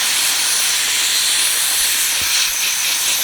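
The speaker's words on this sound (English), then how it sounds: "Dry ice blasting, guys." A dry ice blasting machine cleaning car parts, including a clutch, in a workshop, putting out a loud, continuous, close roaring hiss that holds steady throughout.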